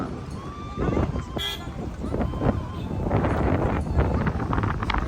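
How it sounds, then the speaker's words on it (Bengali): Steady cold night wind roars across the microphone outdoors at Gangotri, a low gusty rumble, with a short horn-like toot and people talking faintly underneath. "এখানে ঠান্ডা হাওয়া আসছে ডাইরেক্ট ঠান্ডা হাওয়া"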